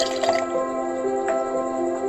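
Lime juice trickles and drips into a chilled glass of cucumber lemonade with ice cubes, a soft, continuous wet pour heard up close and alone.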